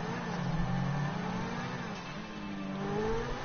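A car engine accelerates close by, its pitch climbing and swelling in a steady, moderately loud whir with no voices over it.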